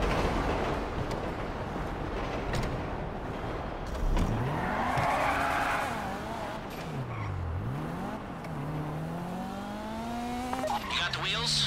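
A car in the online heist game GTA V Online drives with its engine revving up and down in sweeping pitch, tires squealing and skidding through turns over a steady, dense game soundscape.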